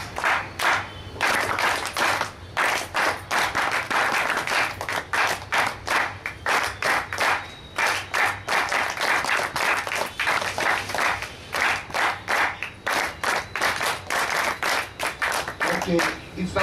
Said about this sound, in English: So maybe if I will show you like the clapping